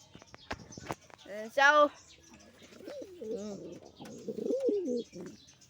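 Pigeons in a training box give a few soft coos and chirps, close by, with someone talking over and between the calls.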